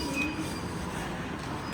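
A subway train runs steadily at Kokkai-gijido-mae station in Seoul, a continuous rumble of rail and wheel noise with faint high squeals riding over it, close and unbroken throughout.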